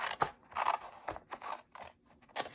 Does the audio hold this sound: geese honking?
no